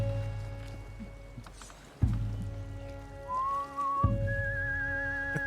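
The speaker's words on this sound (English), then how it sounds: "I can hear you whistling in the distance." Player whistling in a video game, a thin, wavering tune heard twice as short phrases, faint against a soft ambient backdrop with a couple of dull thumps.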